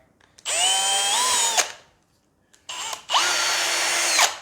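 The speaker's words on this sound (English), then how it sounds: "So I've got a drill bit that's about the right size." Drill with a bit boring into a plastic barb fitting, whining loudly in two close bursts of about a second each with a pause between, the pitch shifting as the bit bites.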